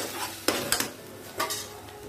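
A spoon stirs tomatoes into chole in a metal pot, giving a few scraping clinks against the pot over a soft simmering sizzle.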